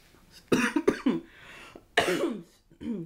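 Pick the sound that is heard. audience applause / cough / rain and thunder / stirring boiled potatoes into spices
cough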